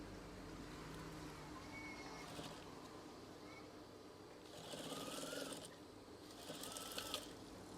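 A sewing machine stitches a seam on a curtain swag in two short, buzzing bursts of rapid needle clatter. Quiet room noise fills the gaps between them.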